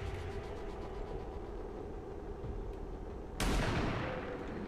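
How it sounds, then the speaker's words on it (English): Rapid gunfire in the video game XCOM 2 as a unit takes reaction fire, a steady dense rattle of shots with a louder, sharper burst near the end, no talking. "Reaction fire, nice."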